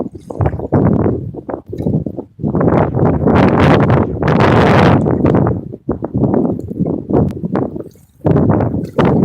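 Wind blowing outdoors on a warm day out fishing, arriving as loud, gusty rushes buffeting close against the microphone, with brief lulls between gusts and no talking.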